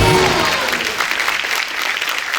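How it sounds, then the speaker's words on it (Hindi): Studio audience on a comedy talk show breaks into loud, dense applause that carries steadily through the short span. "जोरदार ताली हो जाए हमारे शो।"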